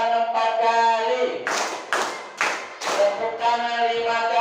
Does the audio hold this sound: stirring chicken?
no